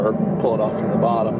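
A low airplane rumble from aircraft flying over near airports drones steadily beneath someone speaking close by, mostly covered by his voice.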